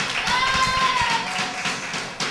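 A small crowd claps for youth football coach Javier Guillén at the season-closing ceremony of UD Roteña's Benjamines B team, with brisk, scattered hand claps close by and a brief whistle-like tone over them.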